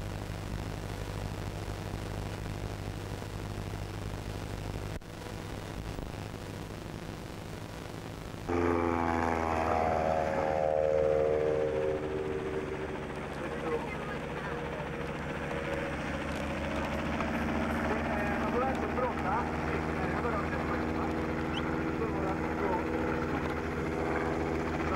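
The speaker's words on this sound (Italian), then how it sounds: "Primo volo dell'elicottero venuto da Viareggio." A model helicopter at a helicopter festival in Italy hums with a steady rotor drone, then spins up sharply into a louder, rising whine that settles into a sustained buzzing flight, while people talk over it.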